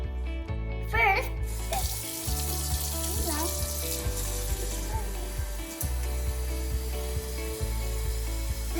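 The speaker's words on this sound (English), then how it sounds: "I need to fill up this Ziploc bag with water" Tap water runs steadily into a plastic Ziploc bag, a soft hiss and gurgle heard close up beneath a louder layer of tonal background music.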